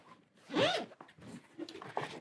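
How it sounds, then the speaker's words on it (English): A zipper opens on a cloth carrying case for a portable laser engraver, one fairly close, rasping pull lasting about half a second, followed by faint handling rustles with no talk. "and then it zips open"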